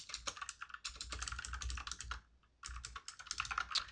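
Fast close typing on a computer keyboard, with rapid clustered keystrokes, one brief pause, then another quick run of key clicks.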